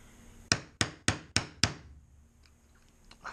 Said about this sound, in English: this shouldn't take any more than my shoemaker's hammer. I'll just take a little stab at each of the peens.